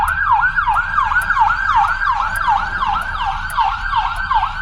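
Ambulance siren wailing in a fast, regular yelp cycle, loud and steady over road traffic as the emergency vehicle approaches along the street.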